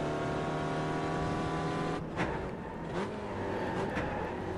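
Race car engine in the iRacing simulator, SRF at Okayama Short, droning steadily then stumbling as a shift into second gear is missed, with the revs dipping and hunting before picking up again, loud and continuous.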